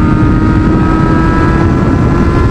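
A Yamaha XJ motorcycle accelerates hard on a ride, its engine a loud, sustained roar with a steady droning tone and heavy wind rush, close and constant throughout.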